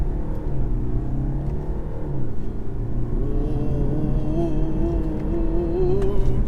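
A 2021 BMW 520d Touring diesel estate accelerating hard along a B road, a steady loud engine drone and rumble from inside the cabin whose pitch climbs gradually toward the end.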